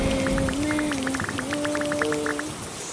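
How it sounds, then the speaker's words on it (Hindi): Steady rain falls in the video game Minecraft, a constant hiss with scattered droplet patter, heard alongside background music tones throughout. "ओह बारिश अभी भी हो रही है।"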